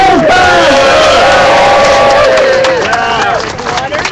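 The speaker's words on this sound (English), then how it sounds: "A big round of applause for Bradley." At a Pride parade rally, a crowd cheers loudly with rising whoops and shouted voices over scattered clapping, close and boisterous, the yelling sliding in pitch before easing slightly toward the end.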